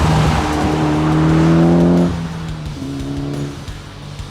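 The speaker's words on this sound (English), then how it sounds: "tires are barely complaining and I am ripped through a corner" A tuned Mitsubishi Evo X sweeps through a corner on a road drive, its engine droning loudly while tires squeal briefly before the pitch drops and the engine settles to a lower note.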